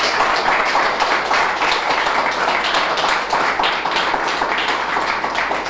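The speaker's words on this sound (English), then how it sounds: "those applause are for all of you because you work so hard" Sustained applause from a political gathering audience celebrating election wins, steady dense clapping filling the whole stretch at a fairly loud level with no pauses.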